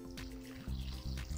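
Hot water trickles and pours into a well in the middle of Arabic esfiha bread dough, a short, close, continuous liquid stream with no talking.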